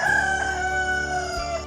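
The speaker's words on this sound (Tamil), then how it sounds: "காட்டு சேவலின் சப்தம் இது இல்லையே, கிராமத்து சேவலின் சப்தம் போல் தெரிகிறதே." A village rooster crows nearby in one loud, sustained, strongly harmonic call that holds steady for nearly two seconds, with no voices around it.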